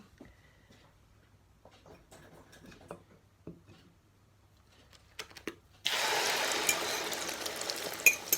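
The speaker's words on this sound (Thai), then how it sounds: "อันนี้ก็ทอดไข่ ใส่ผักกระเทียมด้วยพี่น้องใส่ใบกระเทียม" Beaten egg with garlic leaves hits hot oil in a pan, and a loud, steady sizzle takes over suddenly after several seconds of quiet kitchen clinks and soft handling sounds.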